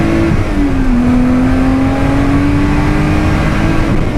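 Race car engine at Oulton Park circuit, a loud, close, continuous roar with a steady droning pitch that dips slightly then climbs gradually as the car accelerates along the track.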